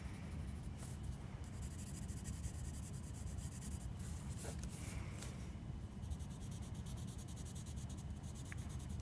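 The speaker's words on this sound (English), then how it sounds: "I like to use the side of my pencil when I shade." The side of a pencil is shaded across paper while drawing woven ribbons, producing a steady, close, soft scratching rub that continues throughout with a few brighter strokes, heard alone without talk.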